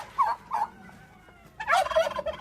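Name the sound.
turkeys gobbling on a museum farm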